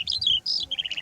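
Skylark singing in short, high, rapid warbling phrases with quick chirps and trills, clear and fairly close, alone with no talk.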